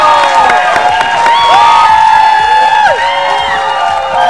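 A studio audience claps and cheers to welcome two guests onto a Thai talk show, loud and dense. A host's voice and bright musical tones ring out over the crowd noise.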